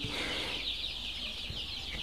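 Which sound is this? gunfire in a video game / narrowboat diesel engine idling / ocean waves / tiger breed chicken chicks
tiger breed chicken chicks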